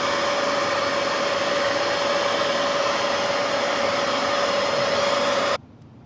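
A loud, steady vacuum cleaner motor whine runs continuously while testing nozzle airflow, then cuts off abruptly near the end, leaving quiet.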